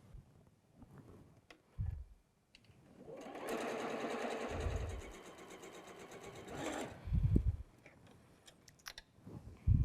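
A sewing machine stitches quilt fan sections together, one steady mechanical run of needle chatter lasting a few seconds, framed by handling thumps and clicks of fabric and the machine before and after.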